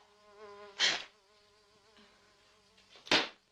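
A wasp buzzes continuously at close range, a thin droning hum with two brief louder rustling bursts.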